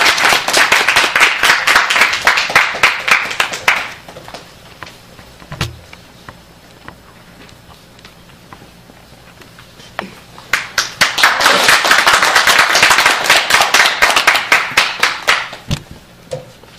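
Applause at a civic network's founding assembly welcoming an elderly speaker, two dense bursts of crowd clapping separated by a lull of scattered individual claps, loud and reverberant in a hall.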